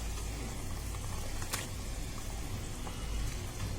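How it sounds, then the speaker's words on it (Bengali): Tangra fish curry broth boiling vigorously in a pan, a steady low bubbling and patter that carries on throughout, with one brief sharp click partway through and no voices. "দেখুন ঝোলটা টকবক করে ফুটে উঠেছে।"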